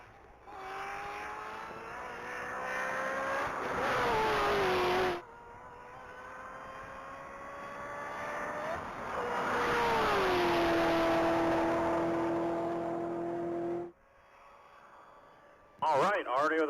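A race car storms through a top-speed mile run at the Texas Mile, its loud engine whine climbing in pitch through each gear, breaking off sharply, then surging again before cutting out.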